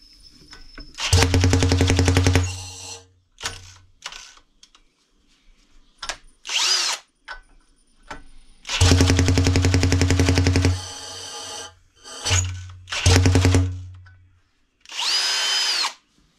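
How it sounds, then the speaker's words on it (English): A power drill whines loudly in long sustained bursts under heavy load, stopping and restarting several times with short gaps between runs. "my drill does not like this abuse"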